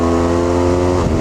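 A 2018 BMW R1200GS Rallye motorcycle engine, new and not yet run in, revving hard around 4,000 rpm, a loud, close, steady mechanical drone with strong harmonic tones throughout, no talking.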